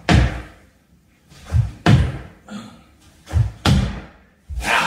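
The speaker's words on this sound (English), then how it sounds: "not letting your body slam into this Bosu" A body slamming down onto a Bosu ball during explosive push-ups, six heavy, close thuds at irregular intervals over about five seconds, with no talk.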